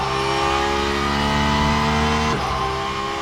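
A Porsche 992 GT3 R race car engine in the Le Mans Ultimate sim racing game holds a steady, loud high-revving drone with layered harmonics, then dips briefly as it shifts near the end before carrying on.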